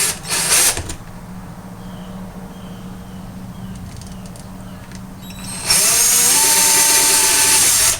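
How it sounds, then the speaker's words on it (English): A power drill bores a couple of holes through a plastic cap, loud high-pitched whirring in two close bursts, short at the start and longer at the end, with quieter handling noise between. "I'm just going to drill a couple of holes"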